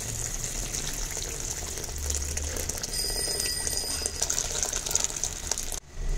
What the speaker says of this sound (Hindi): इस पॉइंट पर हम अपना बॉइलिंग वाटर इसमें डालेंगे